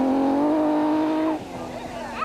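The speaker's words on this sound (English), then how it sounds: "Just listen to that 6-cylinder growl." A 6-cylinder Nissan Skyline rally car at a 2001 rally stage, its engine holding a loud, steady growling note up close before it drops off abruptly and trails away with a shifting whine.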